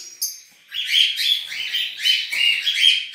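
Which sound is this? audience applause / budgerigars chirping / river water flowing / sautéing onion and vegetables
budgerigars chirping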